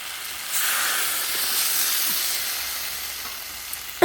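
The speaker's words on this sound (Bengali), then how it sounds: "আমার এবার জল দিয়ে দিচ্ছি" Water poured into sizzling fried spice masala for a fish curry, setting off a sudden loud hiss and steamy sizzle that slowly fades, ending with a sharp clink.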